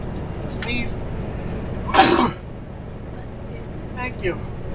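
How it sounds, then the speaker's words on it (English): A single loud sneeze from the driver inside a heavy tow truck cab on the Coquihalla highway in winter, over a steady engine and road rumble, with brief faint voice sounds before and after. "Sneeze."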